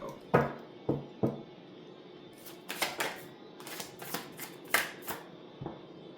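Tarot cards are shuffled by hand up close, giving quick papery riffles and taps in irregular bursts, some louder than others, with quiet pauses between them.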